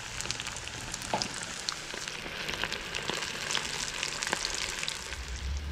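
Whiting fillets deep frying in hot oil at home, a steady dense sizzle with scattered pops and crackles running throughout, close and fairly loud, no talking.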